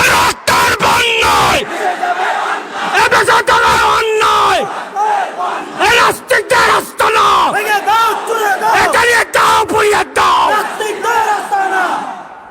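Large crowd at a Bengali religious speech rally roaring a takbir chant in unison, repeated loud collective shouts in bursts with brief gaps, alone without a lead voice.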